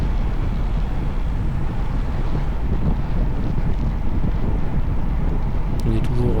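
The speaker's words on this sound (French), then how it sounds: "surtout qu'il y a un peu de vent." Constant wind noise roars against the microphone at a regional Ufolep championship race in Felleries, France, a dense low rumble that stays loud and unbroken from start to finish.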